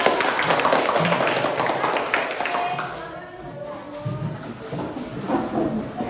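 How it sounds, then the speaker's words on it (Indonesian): An audience claps hands in a group setting, with a burst of scattered, uneven claps at the start fading into lighter patter, mixed with voices and laughter. "Oke, kasih tepuk tangan dulu."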